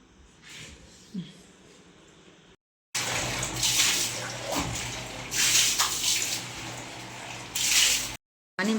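Water pours and splashes steadily onto freshly built construction work at a house, loud and close, broken by short gaps.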